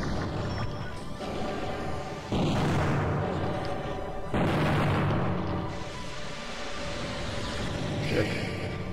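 A gunshot round fires in the robot battle game Custom Robo: Battle Revolution, with sharp blasts and booming impacts over a steady din of game action and music.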